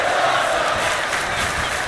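A wrestling arena crowd in the WWE 2K25 video game roars and cheers in a dense, steady wash of noise that stays loud throughout, with no break or swell.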